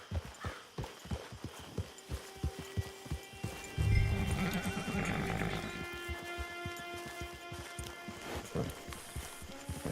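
Horse in Red Dead Redemption 2, rhythmic clip-clop hooves on ground with a loud neigh and snort partway through, then hoofbeats continuing at a walking pace, close and clear.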